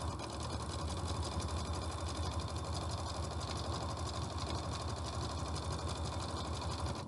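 A sewing machine runs a zigzag stitch down a piece of fabric for an isolation gown neck edge, a fast, steady mechanical chatter that continues evenly and close by without pause.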